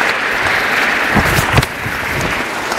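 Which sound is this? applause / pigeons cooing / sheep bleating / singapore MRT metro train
applause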